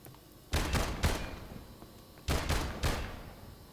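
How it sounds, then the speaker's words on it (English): Four gunshots go off in a video game as two quick pairs of loud, sharp cracks, each ringing out briefly, with quiet gaps between the pairs. "Swiftor Says, fire two shots."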